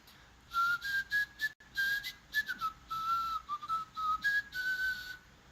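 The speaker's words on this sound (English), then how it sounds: "Let's all whistle nonchalantly at the same time." Several people whistle a casual, wandering tune together during a live stock-market stream, the melody rising and falling in short phrases with brief gaps, clear and close with no speech.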